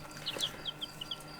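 Small white Dutch Friesian chicks cheep in a quick run of faint, high chirps, close by and quiet.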